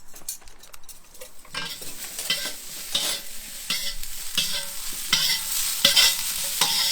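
Food browning in a frying pan sizzles while a utensil stirs and scrapes it in repeated strokes that grow more frequent and louder, heard close with no speech.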